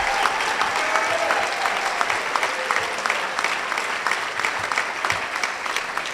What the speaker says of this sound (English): So let's have a round of applause for Tina and Christian.